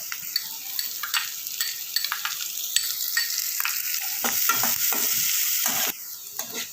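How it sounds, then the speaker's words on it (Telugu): Vegetables sizzle steadily in butter in a pan while being stirred for sweet corn soup, a loud continuous frying hiss broken by repeated scraping and clatter of the stirring utensil, with no talking. "ఇప్పుడు ఇవన్నీ బటర్లో మంచిగా ఫ్రై అయినాయి కదా"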